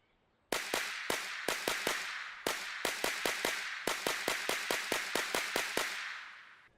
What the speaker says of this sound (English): I'm going to give you an idea of what the gunfire actually sounds like.